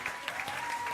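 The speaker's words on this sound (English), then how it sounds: "Please give her another round of applause." An audience at a school English speech contest applauds, a faint, steady patter of clapping throughout the short moment with no talk over it.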